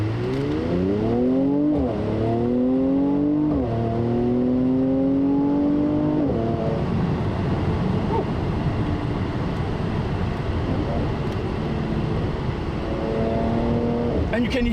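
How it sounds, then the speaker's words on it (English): A Mercedes-AMG C43 V6 with a nine-speed gearbox accelerates hard, its engine note climbing in repeated sweeps as it shifts up through the gears, then settling into a steady, loud drone with road noise before rising again near the end. "you can hear that V6 wants to breathe"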